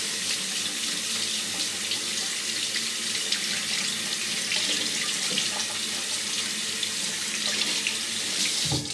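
Tap water runs steadily into a sink to wet a shaving brush, a close, continuous splashing rush lasting throughout with no talk.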